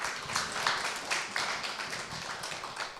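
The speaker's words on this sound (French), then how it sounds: "oui, on peut applaudir." Audience applause in a hall after a talk, a soft rippling patter of many hands clapping, faint and steady throughout.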